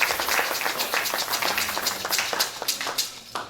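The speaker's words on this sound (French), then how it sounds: "Let us clap for the Lord." A church congregation claps together for the Lord, a dense crowd of scattered hand claps filling the room at moderate loudness and fading slightly toward the end, with no one speaking.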